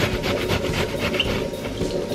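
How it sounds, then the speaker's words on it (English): Kamokamo, a squash-like vegetable, is grated by hand in a kitchen, producing a steady rasping scrape in quick repeated strokes, close up and alone. "So I'm just grating the other half of the kamokamo as well."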